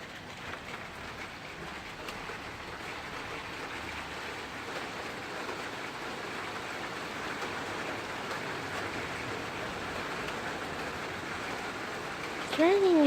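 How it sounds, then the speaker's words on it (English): Rain falls steadily as an even, dense wash of noise that continues without a break, with a brief louder burst near the end. "It's raining again."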